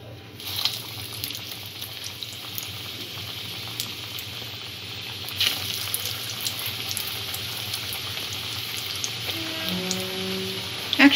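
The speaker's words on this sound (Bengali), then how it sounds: "চপগুলো এবারে এক এক করে ভেজে নেব।" Paneer cutlets sizzling in white oil in a wok over a medium-low gas flame, a steady bubbling fry hiss that runs throughout, with faint clinks near the end.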